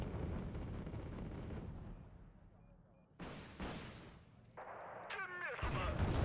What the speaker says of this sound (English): we are opening up on them with a lot of anti-aircraft fire.